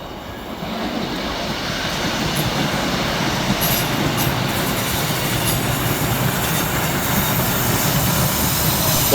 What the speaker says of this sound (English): Next passing through the station for Scotrail is 156436 and 156513, working 1 Lima 86 from Carlisle through to Glasgow Central.